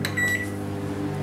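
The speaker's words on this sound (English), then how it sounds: "Now we're going to take it over to the microwave." A microwave oven hums steadily while heating a whoopie pie, a constant close electrical drone with a faint high tone near the start.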